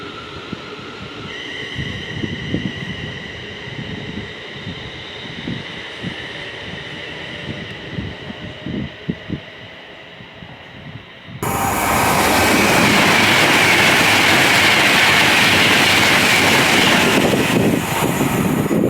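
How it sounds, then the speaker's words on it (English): A Class 807 electric train pulls into a station platform on the Worcester to London run. Quiet platform hum and faint clatter give way to a sudden loud, steady broadband roar as it arrives close by. "So I can just see our train just over there. It's just about to enter the platform"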